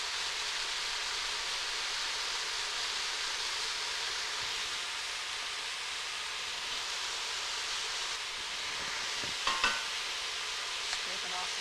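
A pot of mushroom stew with peas and garlic sizzles softly and steadily. A few clinks and scrapes of stirring are heard near the end.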